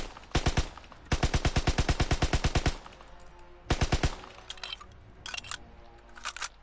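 Grease gun submachine gun with rapid fire in Call of Duty WW2, several bursts of fast rattling shots, the longest running over a second, then shorter bursts fading, loud and alone.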